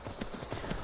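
Horse hooves gallop in the Skyrim VR video game with a rapid, even clip-clop rhythm, loud and close over a dense wash of game ambience, with no talking.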